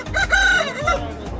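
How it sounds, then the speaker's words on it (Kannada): An Aseel rooster crows once at a busy rooster market in Rojarpalli, Kolar District, a close, loud, drawn-out call with a rising start and a trailing end. "ಇಲ್ಲಿ ನೋಡ್ಬೋದು ಎಲ್ಲ ಕೈಯಲ್ಲಿ ನೋಡಿದ್ರೆ ಹುಂಜಾಗಳೇ ಇದ್ದಾವೆ"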